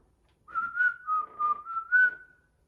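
A clear whistled melody of a few sustained, slightly wavering notes, close and fairly loud, lasting about two seconds with no voices.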